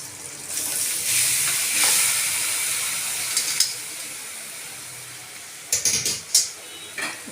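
Puffed rice being stirred in a hot frying pan with a steady sizzle and hiss, followed later by several distinct scraping and stirring strokes near the end.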